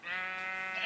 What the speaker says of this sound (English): thank you for killing that sheep for me